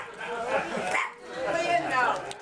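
A dog barks and yips in short bursts while people talk over it at a 2012 Indianapolis 500 press conference, the animal's sounds mixed into the conversation.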